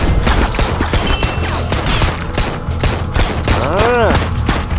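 Rapid, continuous gunfire from a zombie-shooting mobile game, dense repeated shots over busy game sound effects and music, with a voice talking throughout.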